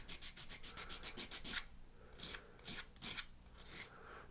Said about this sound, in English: just take your sandpaper and kind of round those off a little bit